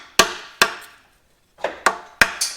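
A new axle seal is driven in with a seal installer on a Fox Body Mustang axle, sharp metallic hammer strikes landing close and loud in two bursts, three and then four blows, with a short pause between.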